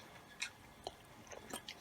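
Chicken kofta curry is chewed close to the mic in a few soft, quiet bites and squishes spread over under two seconds.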